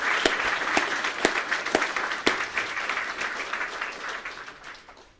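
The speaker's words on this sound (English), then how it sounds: "Let's give them another round of applause." Applause at an ROTC commissioning ceremony: a moderate round of clapping from a seated audience with several sharp individual claps standing out, holding steady before tapering off at the end.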